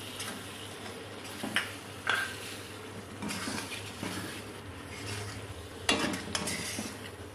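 Butter being stirred in a cooking pot over very low heat gives soft sizzling and scraping with occasional light clinks of a spoon against metal, quiet and close, with no talking.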